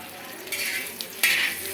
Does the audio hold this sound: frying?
yes